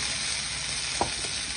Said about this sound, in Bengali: এবার আমি বেগুনটা ছেড়ে দিচ্ছি